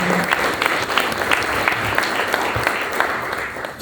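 An audience at a concert celebration applauds. Dense, steady clapping carries on throughout and fades slightly at the end.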